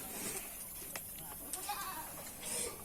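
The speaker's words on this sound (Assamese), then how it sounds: "এইটো এটা ফুল প্ৰেগনেণ্ট ছাগলী আছে" Goat bleating among livestock on a goat farm in Assam, a steady noisy bleat filling the clip at moderate distance with no clear talk over it.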